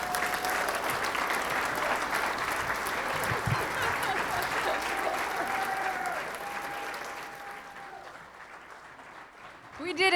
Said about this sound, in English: the big applause that I'm going to ask you to give is for yourself